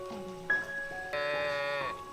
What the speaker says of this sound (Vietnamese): Các bạn ơi, bò rừng các bạn ơi.